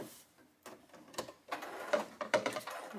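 Sewing machine stitching the side seam of a 1950s-style poodle skirt, heard as short mechanical whirring bursts that grow busier and louder toward the end, with brief pauses between runs and no talking.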